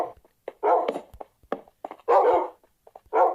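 Dogs in a video game barking in short bursts and whimpering, several close, loud yelps spaced irregularly over a few seconds.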